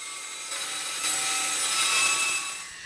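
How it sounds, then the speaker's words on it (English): A bandsaw cuts round an oak and poplar bowl blank, giving a steady, loud rasping hiss that swells slightly and holds continuously for the length of the cut, with no talking. "Then I take it over to the bandsaw and make it pretty round before taking it over to the lathe."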